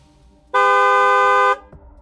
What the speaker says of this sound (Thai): จู่ๆเสียงแตรกดก็ดังขึ้น